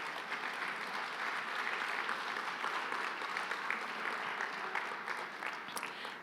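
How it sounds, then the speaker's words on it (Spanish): A standing congregation gives a steady round of applause to the Lord during a worship service, a continuous, fairly faint wash of clapping from a large gathering. "denle un fuerte aplauso al Señor"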